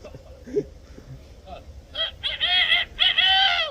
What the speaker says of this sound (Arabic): جاوب هذا الديك.